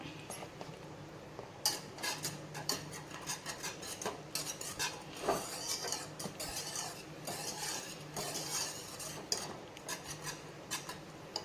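A spoon or ladle stirs thick fenugreek kali dough in a pot, scraping and clinking against the metal in steady, uneven strokes. The sound is close and continuous, with brief sharper knocks and no talking.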